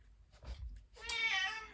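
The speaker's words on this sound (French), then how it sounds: "c'est un chat que j'ai trouvé dans la rue" A house cat found in the street gives one clear, drawn-out meow after a few soft rustles, close and fairly quiet, with no talk over it.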